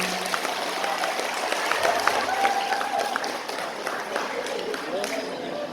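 Audience applause at an Isra' Mi'raj religious gathering in a village, a steady round of clapping from a crowd with voices and chatter mixed in throughout.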